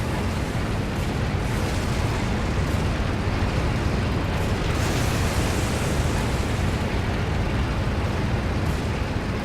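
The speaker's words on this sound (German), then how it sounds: "Pass auf, Artillerie." Artillery explosions in the World War II video game Codename: Panzer, a steady dense roar of blasts and rumbling that stays loud and unbroken throughout, with no talking over it.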